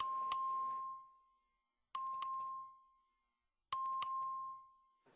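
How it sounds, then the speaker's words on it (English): Voting bell in a legislative chamber, rung by the clerk: three bright, sustained electronic chimes with a ringing tone. Each ring has a couple of sharp strikes at its start, then fades into a pause, with no voices. "Clerk will ring the bell."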